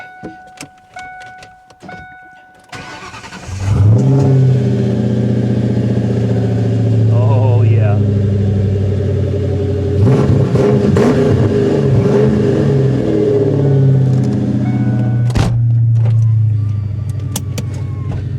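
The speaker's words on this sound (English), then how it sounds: "This exhaust is so nice. It sounds so good." A 1997 Ford Mustang GT V8 with an SLP Loudmouth exhaust and BBK X-pipe cranks and fires up, settling into a deep, loud rumbling idle with a couple of throttle blips; a voice speaks briefly.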